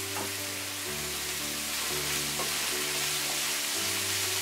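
Koloi greens sizzle and fry in a pan while being stirred, giving a steady crackle over a low hum, with a few soft scrapes as the greens are mixed.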